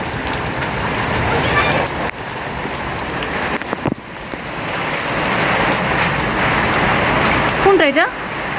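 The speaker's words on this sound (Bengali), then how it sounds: "এখন অনেক বৃষ্টি পড়তেছে" Heavy rain pours steadily onto a rooftop at night, a dense continuous hiss close by, with faint voices and a brief higher sound near the end.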